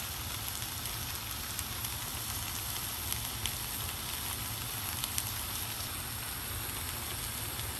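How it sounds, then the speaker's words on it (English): Shrimps being stirred in a hot pan over high heat give a steady, even sizzle with faint scrapes and ticks, continuous and moderately close, with no talking. "you need to do it on high fire, and just keep gently mixing and stirring gently until at least the shrimps are ready to your liking"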